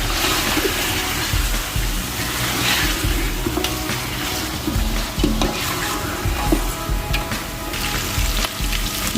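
Masala fries and is stirred in a pan as part of pulao cooking, a steady loud sizzle with occasional scraping stirs, continuous and close.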